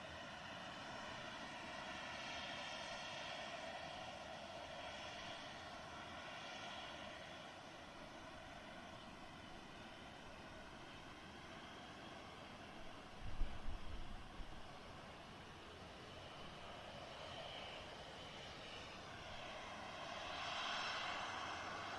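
An Airbus jet airliner on a delivery flight from the Hamburg factory drones steadily overhead at a distance, a faint broad engine roar that swells slightly toward the end, with no talk.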